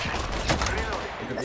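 Rapid gunfire in the video game Apex Legends during a ranked match: a dense burst of shots filling the moment, loud and continuous, with no clear talk over it.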